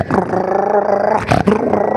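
A comedian's voice imitates a dog, letting out a loud, close, rough growl that swells into a roaring bark-like burst and then a second shorter snarl.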